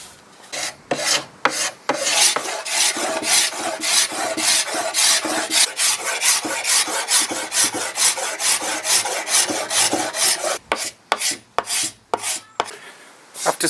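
Old finish being scraped off a solid oak side table, rapid rhythmic rasping strokes that run loud and close in a long steady burst, then slow into separate scrapes near the end.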